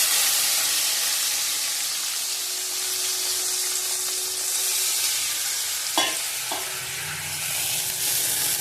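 Ghee sizzles hard in a large wok throughout a Bengali home cooking session, a loud continuous hiss with a couple of brief stirring scrapes near the end.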